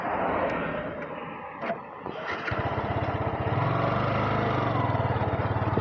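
A Yamaha R15 v2 motorcycle engine rumbles close by as the bike sets off, a steady, rising drone that settles into a sustained buzzing hum.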